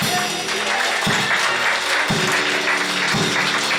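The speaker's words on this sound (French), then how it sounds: "Acclame Jésus très fort." A church congregation applauds and cheers loudly and continuously, a dense crowd sound with rhythmic clapping pulses near the front. Voices rise within the din.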